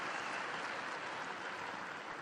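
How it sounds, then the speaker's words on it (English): Spectators at an Australian Open tennis match applaud fans who have been entertaining the crowd, a steady wash of distant clapping from a large audience with no voices over it. "they get a round of applause"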